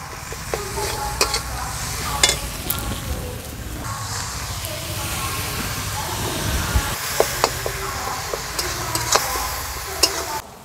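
Spice masala with Kashmiri red chilli powder stir-fried and sizzling in a pan for a vegetarian ghugni, a steady close sizzle broken by scrapes and clicks of the spoon, with no talk.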